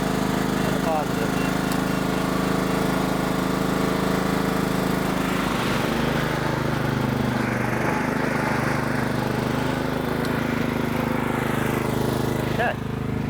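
A lawn mower engine, just jump-started with a portable jump starter, runs steadily and close by at a constant idle, with a voice talking over it.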